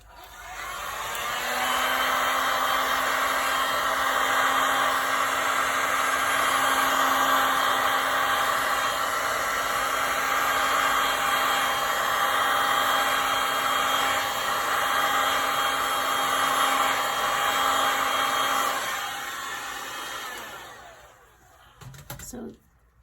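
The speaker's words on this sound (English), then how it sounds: "I'm going to hit it with the heat gun." A heat gun blows steadily over freshly poured casting resin for about twenty seconds, a loud continuous whooshing whine with a faint motor hum, then clicks off and winds down near the end.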